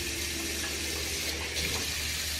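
Water runs steadily from a bathroom sink tap into the basin, a continuous close hiss with no break and no talk, while warm to hot water is used to rinse curly hair.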